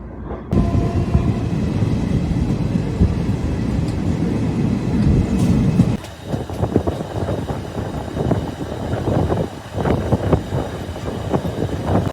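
A long-distance passenger train from Santragachi to New Jalpaiguri rumbles along steadily, its loud broadband roar of wheels and carriages continuing throughout with a brief drop and shift in texture midway, and no talking.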